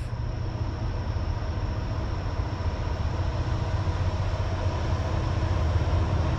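An eastbound freight train led by a red locomotive rolls along Track 2 of the Lehigh Line around a bend, a steady, continuous low rumble and rail noise holding at an even, fairly close level with no talk.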